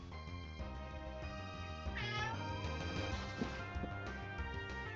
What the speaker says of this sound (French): Il en a des choses à dire, le chat.